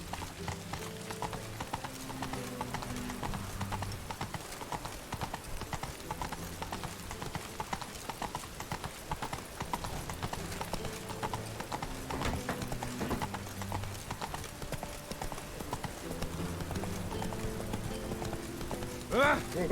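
Hooves of a horse named Roach clip-clop in a steady rhythmic gallop at moderate distance, accompanied by faint creaking tack, with a voice speaking over the hoofbeats.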